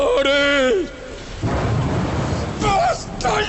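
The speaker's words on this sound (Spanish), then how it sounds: "a este granizo. Y estos truenos tan aterradores." A deep rumble of thunder rolls through a hail storm, a loud, broad crash swelling in the middle with rain noise beneath, framed by voices speaking before and after.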